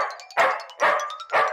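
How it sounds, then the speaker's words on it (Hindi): Three evenly spaced barks from a dog, close and fairly loud, in a Hindi comic-story narration about a small dog chasing a big dog. "छोटा कुत्ता बड़े कुत्ते को खदेड़ रहा है"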